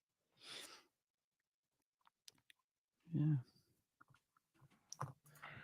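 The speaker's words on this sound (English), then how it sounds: "just bashing away on the keyboard" Keys on a computer keyboard clack in short, scattered bursts of clicks between pauses, close and fairly quiet, with a person's brief voice and breath in between.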